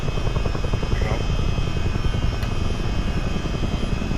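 A CH-47D Chinook tandem-rotor military helicopter in Microsoft Flight Simulator 2020 roars steadily at close range, with dense, continuous rotor chop and a constant engine drone, and a faint brief radio-like tone.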